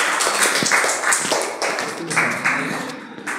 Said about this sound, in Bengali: সঠিক উত্তর, এটা জোরে হাততালি হবে